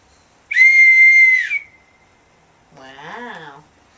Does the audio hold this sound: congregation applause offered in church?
no